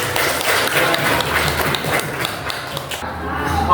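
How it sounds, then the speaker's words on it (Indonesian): Audience clapping in a school hall during an Indonesian student program, a steady broadband patter of many hands sustained throughout and fairly loud, with a faint voice underneath. "tepuk tangan buat ini."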